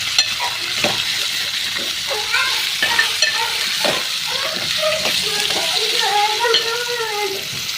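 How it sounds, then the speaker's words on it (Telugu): Raw prawns fry in a pan with a lid being set on, a close, steady sizzle with bubbling pops and occasional metallic clinks, while faint background voices murmur underneath. "ఇప్పుడైతే ఒకసారి తీసుకొని మూత పెట్టుకుంటే కాసేపు అయితే ఫ్రై అవుతాయి"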